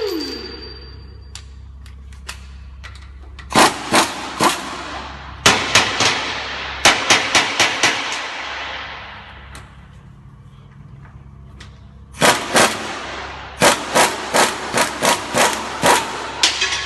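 An impact wrench with a wobble extension and deep socket removing the upper and lower ball joint retaining nuts on a Chevy Express van, firing in loud rapid hammering bursts in separate groups with quieter pauses between them.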